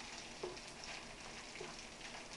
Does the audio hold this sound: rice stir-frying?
yes